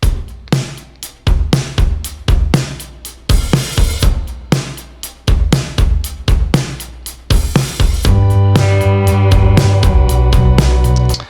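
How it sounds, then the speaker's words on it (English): A live band drum kit captured with just three microphones plays a punchy groove of repeated kick, snare and cymbal hits, loud and close, with the band joining in fuller and more sustained near the end; no talking. "Coming up with a drum sound like this,"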